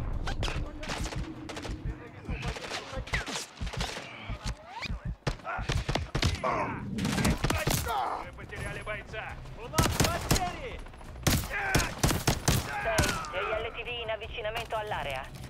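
Dense bursts of automatic gunfire and rapid shots from Call of Duty: Modern Warfare 3 (2023) combat, loud and continuous with sharp cracks, mixed with game voices and effects.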